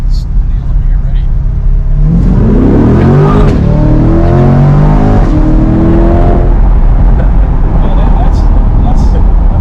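A C8 Corvette Z51 launches hard from a standstill in a 0-60 run, its engine note climbing through rising harmonic sweeps and gear changes, loud and close inside the cabin, with a brief voice at the end.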